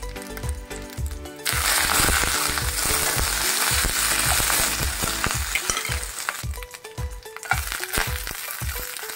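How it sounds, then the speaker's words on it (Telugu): Coriander seeds and cumin for tempering fry in hot oil, with a bright sizzle and a regular clink and scrape of a spoon stirring the pan, close and loud, easing toward the end. "కొంచెం ధనియాలు జీలకర్ర కూడా వేసుకుందాం."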